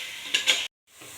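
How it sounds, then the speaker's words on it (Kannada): Tomatoes frying in oil for veg dhone biryani give a steady close hiss with a couple of stirring scrapes, then a brief silence before the sizzle resumes. "ಹಾಕಿ ಚೆನ್ನಾಗಿ ಅದು ಎಣ್ಣೆ ಬಿಡೋ ಥರ ಹುರ್ಕೊಳ್ಳಿ."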